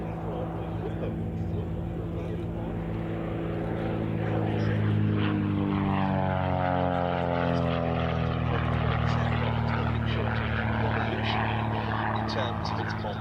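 A 1930s Messerschmitt sporting touring propeller aircraft flies past at the RAF Duxford Battle of Britain airshow, its engine drone rising and bending in pitch as it passes, with a voice in the background.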